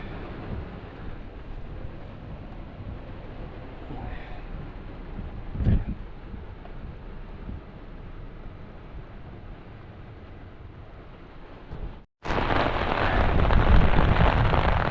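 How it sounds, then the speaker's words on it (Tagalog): Heavy typhoon rain hisses steadily at a building project site, a continuous wash of downpour with a brief dip near the end before it returns louder and denser. "Lakas ng ulan."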